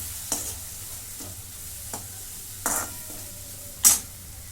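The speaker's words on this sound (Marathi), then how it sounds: "घरचा कांदा लसूण मसाला परतून येते" Homemade onion-garlic masala sautés in a pan with a soft steady sizzle, broken by several sharp spoon scrapes and clinks against the pan.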